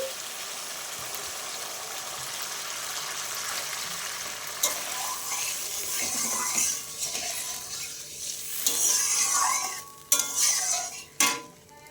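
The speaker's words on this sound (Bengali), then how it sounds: "এবার আমি জল দিয়ে দিচ্ছি" Water poured into mustard and poppy seed paste in a pan for a bhola fish curry, a quiet sizzle that gives way to splashing, bubbling liquid and clanking stirring.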